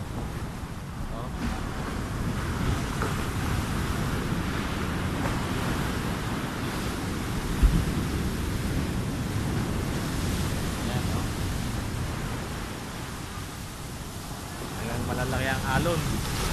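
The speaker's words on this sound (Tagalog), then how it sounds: "Malalaki ang alon." Big sea waves and strong wind in stormy weather at sea, a steady loud roar of surf with constant wind buffeting the microphone, and people talking faintly over it.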